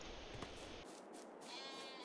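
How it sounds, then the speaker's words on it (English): Sheep bleat faintly on an old farm, a couple of short, distant calls half-buried in steady wind and outdoor noise. "Sheep are still very happy."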